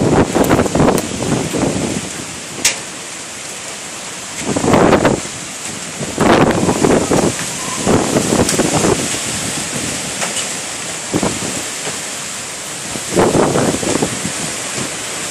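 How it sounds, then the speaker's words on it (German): A severe hailstorm with strong wind over Magdeburg: a constant loud roar of wind and pelting ice, with gusts buffeting the microphone and sharp, scattered impacts throughout, and no voices. "Geh rein, es ist Hagel."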